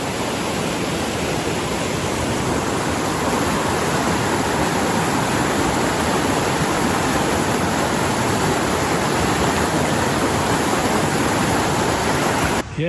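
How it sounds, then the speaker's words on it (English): Evelyn Creek rushes loudly and continuously beside a bridge on the Jasper Skyline Trail in the Canadian Rockies, a dense unbroken roar of flowing water filling the whole stretch. "I'm gonna say this is Evelyn Creek."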